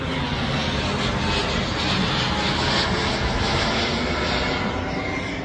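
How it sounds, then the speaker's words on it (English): A loud airplane roars overhead, a broad continuous engine rumble that stays strong and close throughout with no talk over it. "Plane was super loud"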